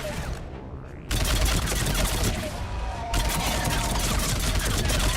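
Sustained light machine gun fire in Mass Effect 3, a dense unbroken fusillade that steps up louder after the first second and rattles on close and heavy with faint game noise beneath.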